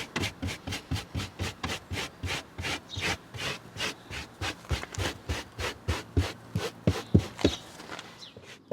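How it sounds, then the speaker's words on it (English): A rubber-bristle pet hair removal tool is worked firmly back and forth over car upholstery, giving a steady rhythmic series of close, brisk scratchy rubbing strokes, about three per second, with no voices. "A small section was worked firmly with the tool, collecting the freshly released hair into small piles ready to be vacuumed up"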